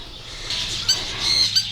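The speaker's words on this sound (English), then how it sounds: "we're gonna go feed some parrots and flamingos" Parrots and flamingos at a bird park give a few sharp, close squawks in quick succession over a short stretch.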